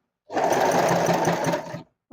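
A sewing machine stitches a folded saree hem in one continuous close-up burst of rapid mechanical whirring that lasts about a second and a half, then stops.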